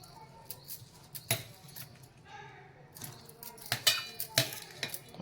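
Roasted green chillies and coriander leaves dropped into a steel mixer jar for green tomato chutney, a few soft clinks and taps scattered over the moment, with someone talking over them.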